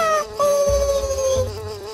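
A buzzing fly in a cutscene from a video game about the Emperor's adventures, where flies can talk: a steady, close, whining drone with low thumps beneath it, heard alone.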